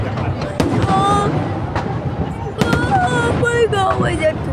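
Fireworks go off at close range, several sharp bangs and crackling bursts spaced across a few seconds, with people chattering and exclaiming over them.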